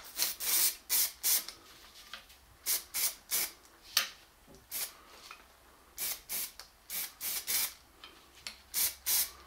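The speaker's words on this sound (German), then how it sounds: "wenn man jetzt will, kann man das auch noch ein bisschen schwarz sprühen" Short bursts of black spray paint hiss from an aerosol can onto a part of an Adder crossbow, about twenty close, loud puffs in an irregular rhythm with quiet gaps between them.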